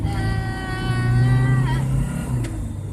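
An engine hums and rises in pitch as a 1995 Ford Explorer pulls away and accelerates, then shifts and settles into a steady drone from inside the cabin, windows up and AC on.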